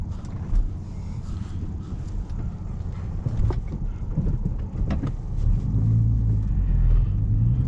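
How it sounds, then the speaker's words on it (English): An MK5 VW Golf R32 drives with the windows down, a low, continuous engine and road rumble heard from inside the cabin that swells slightly toward the end, with a few faint clicks and bumps. "here's some POV driving of the Golf"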